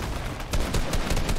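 In the video game Immortals Fenyx Rising, shotguns fire in a quick, dense burst of loud, blunt booms. Several shots land within about a second.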